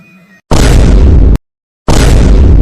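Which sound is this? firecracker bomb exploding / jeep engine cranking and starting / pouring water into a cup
firecracker bomb exploding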